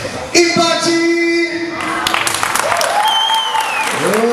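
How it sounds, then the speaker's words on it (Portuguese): Crowd applause at a women's fight event after a draw is announced, loud clapping with occasional shouts and whoops beneath a sustained announcer voice and musical tones. "Uma salva de palmas, senhoras e senhores, para as duas guerreiras"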